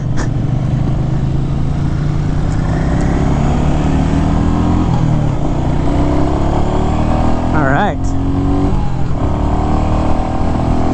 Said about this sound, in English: You got a nice, you know, a decent sound out of the exhaust here for kind of a little 350 motorcycle